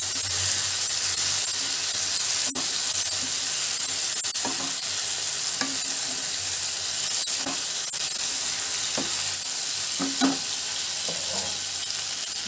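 Tofu and green peas masala curry sizzling steadily in a pan, with a constant hiss of frying and occasional soft scrapes and taps of a spoon stirring, close and even throughout.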